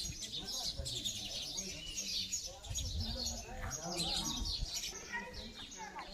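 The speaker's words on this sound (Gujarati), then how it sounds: "ચકલીઓનો મસ્ત કલરવ તમને સંભળાઈ રહ્યો છે ને" Small sparrows chirp busily around an old heritage building with dharamshala-style rooms, a dense flock of quick, high tweets that overlap continuously at moderate distance, with no one talking.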